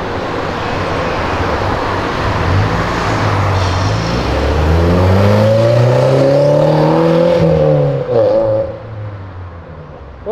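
A Nissan 350Z engine revs up loud and close, its pitch climbing steadily through the gears before easing off at the end.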